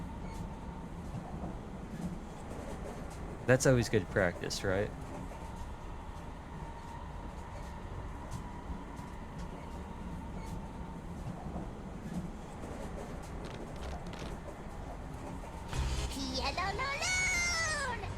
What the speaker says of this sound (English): Let's release those train cars and just leave them behind.